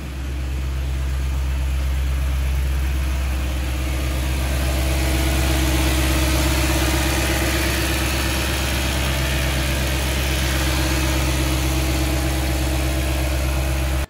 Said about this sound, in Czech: podle toho zvuku ten motor běží v nějakým jakýmsi nouzovým režimu